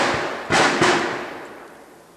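M4 carbine fire on a qualification range: two sharp, loud reports about a third of a second apart, each followed by a long fading echo, with no talk over them.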